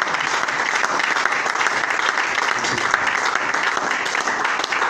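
A church congregation applauds and cheers to acclaim God during a French-language worship sermon, steady dense clapping sustained throughout without pause.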